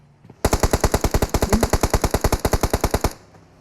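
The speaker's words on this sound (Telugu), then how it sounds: "నేను మిషన్ గన్ పెట్టుకొని గేమ్ ఆడుకుంటున్నాను" Rapid automatic machine gun fire in the BGMI mobile battle royale game, a single burst of about twenty-five evenly spaced sharp shots lasting under three seconds, loud and close, with no talk.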